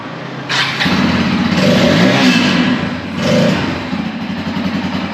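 A motorbike engine revs inside a showroom, a loud, steady, close drone that swells and eases over several seconds, with a brief rise near the end and no talking.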